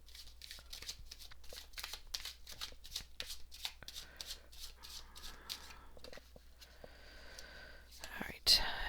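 Oracle cards are shuffled by hand in quick, quiet riffling bursts, close and soft, with a breathy whisper-like hush beneath and a sharper rustle at the end.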